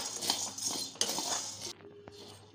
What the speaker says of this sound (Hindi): साबुदाने को हम 2 मिनट भूनेंगे, ताकि जिससे इसमें जो भी नमी है वो ख़त्म हो जाए।